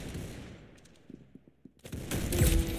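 Rapid gunfire from the Roblox game Arsenal, a run of sharp, close shots popping in quick succession, then a louder, denser burst of shooting at the end.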